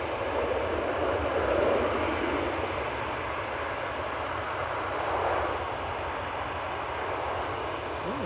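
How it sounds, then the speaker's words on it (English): A Ryanair airliner lands on runway 23 right at Manchester Airport, its engines a steady, moderately distant roar that holds evenly throughout with a broad rumbling wash and no talk. "Landing in parallel on 23 right is Ryanair 1862 from Cork."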